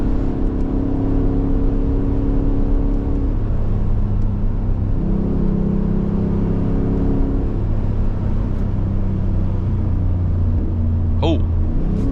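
Ford F-150 with the 5.0 engine rumbling and revving as it downshifts through morning traffic, a steady loud drone with pitch steps between gears, heard from inside the cab with someone talking over it.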